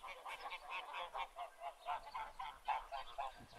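A goose honks repeatedly in a steady rhythm of short nasal calls, fairly close and moderately loud, with no other sounds.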